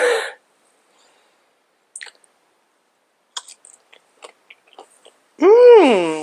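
Someone bites into crispy smoked miso-brined beet, and a few soft, scattered crunches and chewing sounds come up close in near silence before a brief vocal sound at the end.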